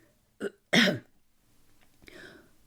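A short, throaty cough, a small one followed by a stronger one, then quiet breathy noise trailing off.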